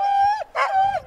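Siberian sled dogs, eager to run, give high, drawn-out whining yelps, two long cries with a short gap between them, loud and close.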